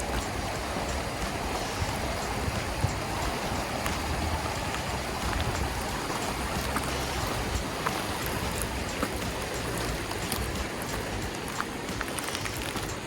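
Steady broadband rush of the Gila River flowing across a trail crossing, continuous and fairly close, with a dense, even wash and no voices.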